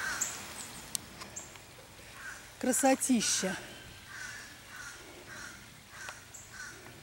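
Crows in a US park where flamingos also roam give a few faint, distant caws in the background, while a person speaks briefly in the middle.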